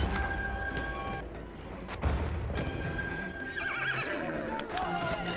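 A horse in the video game Battlefield whinnies loudly several times while its hooves clip-clop, mixed with game noise and distant booms, as players talk over it.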